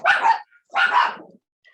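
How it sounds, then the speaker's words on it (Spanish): Two dogs belonging to neighbours bark nearby, two loud bursts of barking separated by a short pause, with no talk over them. "justo tengo los perros ladrando allá"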